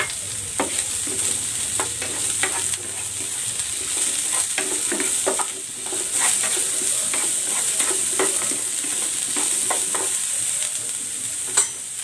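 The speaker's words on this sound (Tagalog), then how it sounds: "Magigisa na ako ng bawang. At ng sibuyas." Garlic and onion sauté in a pan for a pork stir fry, giving a steady soft sizzle broken by repeated scraping stirs, close up with no voices.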